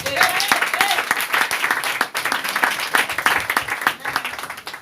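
A church congregation applauds, a dense, lively wash of clapping filling the room, with voices mixed in beneath the steady claps throughout.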